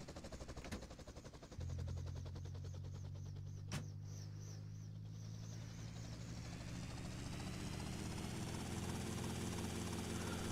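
Helicopter flying in Grand Theft Auto: Vice City: a steady, loud rotor drone with a low engine hum that starts up after a short noisy lead-in and holds evenly to the end.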